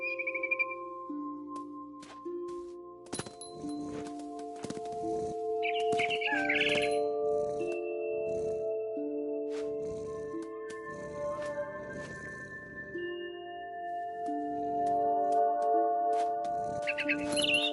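Synthetic bird chirps and tweets from the video game What Remains of Edith Finch pop up over a droning, tonal game soundtrack, with scattered clicks and short effects throughout.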